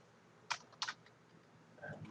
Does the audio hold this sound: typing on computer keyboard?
yes